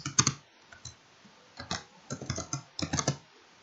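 Computer keyboard typing with a series of short key clicks in several quick bursts, ending with a press of the Enter key, close and fairly quiet while working in Blender 3D software, with no talking.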